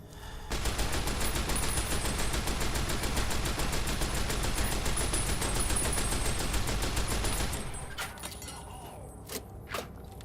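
A rapid-firing gun in Fallout New Vegas Old World Blues rattles off a long, loud burst of sustained automatic fire for several seconds, then cuts off, leaving a few scattered clicks and clatters.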